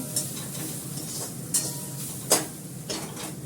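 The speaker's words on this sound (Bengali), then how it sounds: "কারি পাতাটা দিয়ে সবজিটা আমি দিয়ে দেবো" Curry leaves and chopped vegetables (green chilli, onion, carrot, beans) go into hot oil with mustard seeds, giving a steady soft sizzle with a few sharp spatters and stirring clicks, close and alone.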